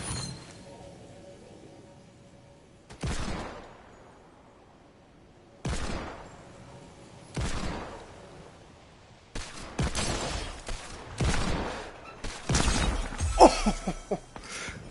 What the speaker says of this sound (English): sometimes I'm, like, really good with this hand cannon. And then sometimes I'm just, like, missing so many shots